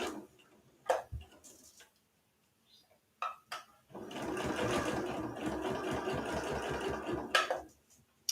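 Sewing machine stitching fabric around a curve on beginner pajama pants, a steady rapid run of needle strokes lasting several seconds after a few short bursts and pauses, close and fairly loud.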